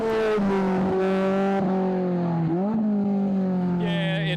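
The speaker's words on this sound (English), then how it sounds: "don't be misled by the high-pitched scream of the 2-litre Toyota" The 2-litre Toyota Skelter race car, revving to around 9,000 rpm, gives a loud, sustained high-pitched engine scream close by, holding its pitch with a brief dip and recovery partway through, then a sharper whine rising at the end.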